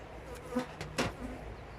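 Honeybees at an open hive damaged by varroa mites hum softly nearby in a low, continuous drone, with a few louder buzzing passes as insects fly close.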